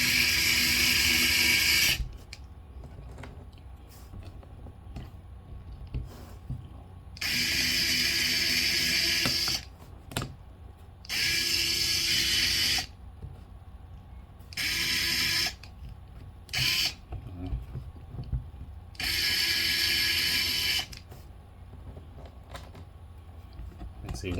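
Screws being tightened with a power driver while installing tires, heard as several loud, whirring bursts of a few seconds each, separated by quieter pauses.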